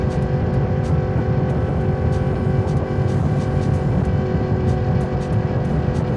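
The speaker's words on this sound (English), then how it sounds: "you can hear my motorcycle, but you can also hear wind noise." A Yamaha MT10 motorcycle rides at night, its engine droning steadily under loud, rushing wind noise that stays constant throughout as it is recorded by an Insta360 X4 camera mounted at the side of the bike.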